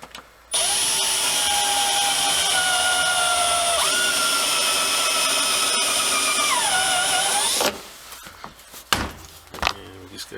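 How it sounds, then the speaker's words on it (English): A step drill bores a hole through a Polaris Ranger panel, a loud steady whine that shifts pitch as the bit steps through sizes, running for about seven seconds before stopping, followed by a few handling clunks. "I'm going to use my step drill."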